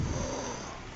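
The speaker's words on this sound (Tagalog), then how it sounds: "May hilik. Ang lakas-lakas." A person snores loudly, one drawn-out rasping breath that fades over about a second, close and raw.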